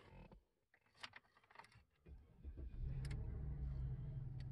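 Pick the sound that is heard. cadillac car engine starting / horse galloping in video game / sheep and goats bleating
cadillac car engine starting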